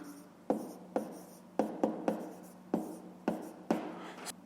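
A pen or pencil writes numbers in a school notebook during a fifth-grade maths exercise, a series of short, crisp scratching strokes in an uneven rhythm, close and fairly quiet.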